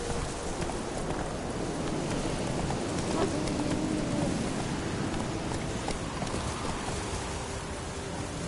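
Roach the horse gallops in The Witcher 3, with rapid hoofbeats under a constant rush of wind and ambient game noise.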